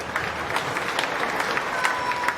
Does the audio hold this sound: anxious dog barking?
no